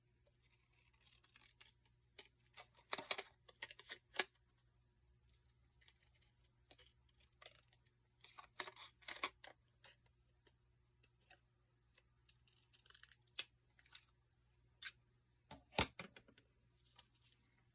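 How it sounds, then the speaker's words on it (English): Soft, irregular snips and clicks of small scallop scissors cutting paper, coming in quiet bursts with pauses between, close by and without talk. "Let's get out the little scallop scissors."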